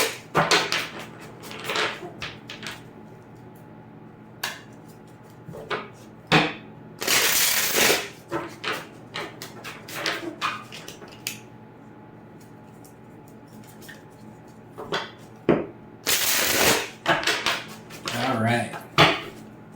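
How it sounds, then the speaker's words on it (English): A tarot deck is shuffled up close in quick papery riffles and soft card slaps, with two louder bursts of shuffling among lighter handling sounds. "Let's give it a few shuffles."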